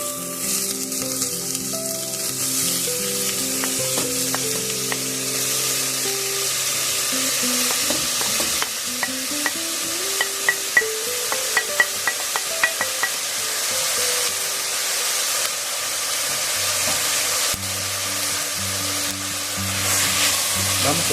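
Stuffed pepper filling with pancetta frying in a little olive oil, a continuous close sizzle and crackle under music that plays throughout, with scattered pops and a few stirring clicks.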